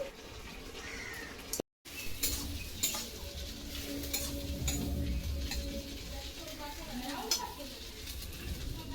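A spatula scrapes and stirs jute leaves frying in a wok while they sizzle steadily, with brief clinks of metal and a short dropout near the start.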